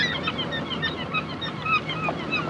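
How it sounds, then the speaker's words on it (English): Gulls calling again and again over a steady wash of wind or water, the cries overlapping at a moderate distance. "Listen to the seagulls."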